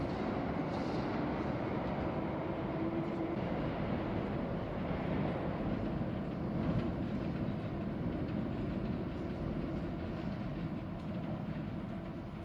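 A train runs past a railway platform with a steady, continuous rumble and rolling wheel noise, fairly close and even in level for the whole stretch, with no voices.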